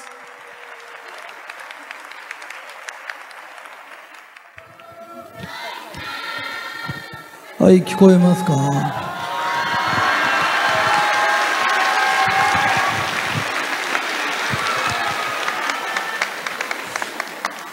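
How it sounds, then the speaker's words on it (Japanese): Audience at a talk event breaking into applause with cheers and shouts, quiet murmuring at first, then a sudden loud burst and sustained clapping; a person speaks briefly early on. "皆様、大きな拍手をお願いいたします"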